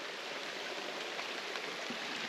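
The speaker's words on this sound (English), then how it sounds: "Pretty nice little creek." A small creek on the Ozark Trail in Missouri flows steadily in a soft, continuous broadband wash of water, quiet and even throughout, with no voices.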